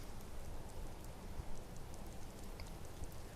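Soft, steady rain patters throughout as ambient sound in a Skyrim book reading, a faint even hiss with scattered drops and no speech.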